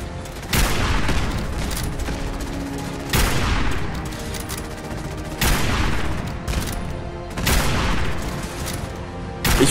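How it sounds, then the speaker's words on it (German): A rocket-firing guard robot in Fallout 4 unloads repeated volleys, each burst landing as a loud, sharp blast followed by a rumbling decay, roughly four heavy salvos spaced a couple of seconds apart with no talking over them. "Warum ein Wachbot, der mit Raketen schießen kann?"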